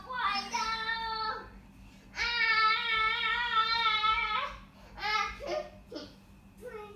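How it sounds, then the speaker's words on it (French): A young child plays and babbles close by in a home, long bursts of high, tuneful vocalizing with a few laugh-like breaks, heard over a low steady room hum. "Et c'est mon enfant qui joue derrière."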